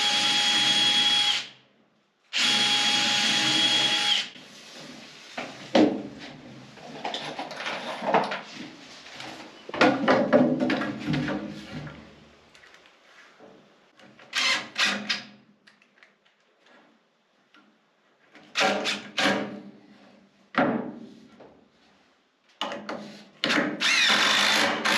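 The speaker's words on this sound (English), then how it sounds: "this board is it's like so dense. I'm afraid I'm gonna crack it, so I'm gonna pre-drill it." A power drill pre-drilling a dense wooden board during barn framing work, whirring in several loud bursts of varying length separated by short quiet pauses and light handling knocks.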